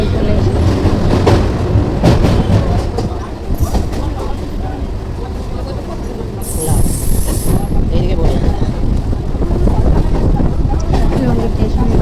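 A train pulling into Lungi station gives a loud, close rumble and rattle, with a short high-pitched brake squeal partway through and people talking inside the carriage.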